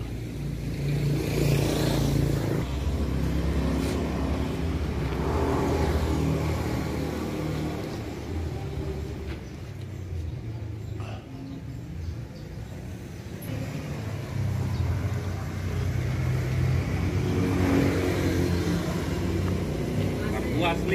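A blue 2004 Yamaha RX King two-stroke motorcycle with its original carburetor, engine running steadily with rises in revs, loud and close throughout, with someone talking over it.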